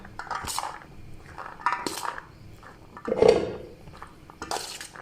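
Potato, onion and tomato for chana chaat are mixed with a utensil in a bowl, giving several separate clinks and scrapes of metal against the dish at an uneven pace, with no speech.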